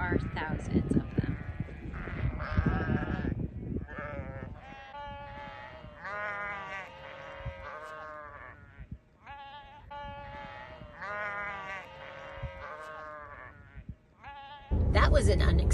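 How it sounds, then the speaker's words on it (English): A flock of a couple thousand sheep crossing a mountain road in the Rockies, with many overlapping bleats rising and falling close by, mixed with people talking, before a loud burst of rumbling noise at the end. "We just saw a couple thousand sheep crossing the road and going up the mountain"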